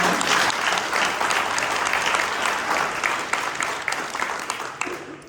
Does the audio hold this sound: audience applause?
yes